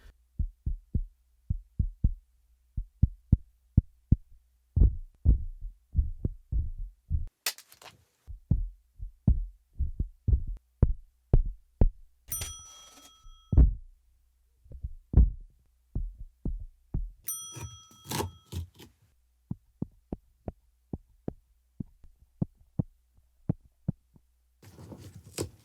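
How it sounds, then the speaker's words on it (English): A homemade wooden stomp box foot drum board struck repeatedly by foot in different spots, giving steady low, thumping beats in a loose rhythm, close and fairly loud, with a few sharp brighter knocks and short metallic rattles between hits. "I'm kind of experimenting with different places of hitting the board."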